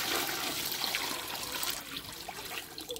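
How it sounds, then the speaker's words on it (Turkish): Water pours steadily into a large cauldron for making dried fig jam, a continuous close rushing splash that holds for the full three seconds with no talk over it. "Şimdi suyumuzu hemen ilave ediyorum."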